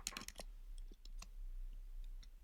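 Quiet clicks of typing on a computer keyboard while entering code: a quick cluster of keystrokes, then a few scattered, sparse taps with pauses between them.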